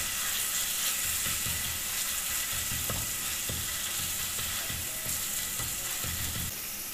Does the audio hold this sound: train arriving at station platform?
no